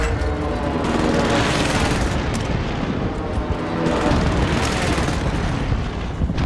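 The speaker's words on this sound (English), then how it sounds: "Allied precision airstrike incoming." Allied precision airstrike in a war video game, a sustained barrage of dense, loud overlapping explosions and rumbling booms that keeps going without any break.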